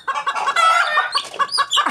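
Native chicken chicks peep rapidly at close range in a quick, overlapping series of high chirps lasting about two seconds.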